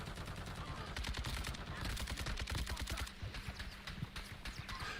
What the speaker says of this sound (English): There's a guy shooting there.